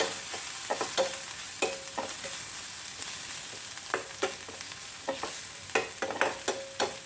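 Ginger paste and spice powder sautéing in a pan for a Kerala-style sardine dish, a steady soft sizzle broken by repeated scraping stirs of a spoon against the pan, close and fairly quiet, with no talking.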